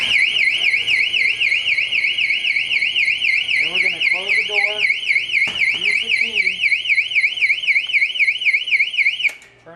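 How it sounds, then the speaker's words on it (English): A Detex ECL-230D exit door alarm sounds a loud, continuous warbling siren that sweeps up and down steadily, with someone talking underneath, then cuts off at the end. "the person would push the bar firmly in, unlocking the door and making the alarm sound."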